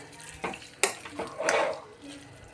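A spoon stirs tempering through daddojanam curd rice in a pot, giving a few scraping clinks and soft wet squelches at uneven moments, close and fairly quiet.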